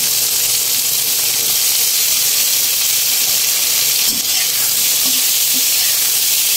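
Shrimp sizzles and fries steadily in a hot pan while mung bean guisado is being cooked, a constant bright hiss with a few soft stirring knocks near the end, no talking.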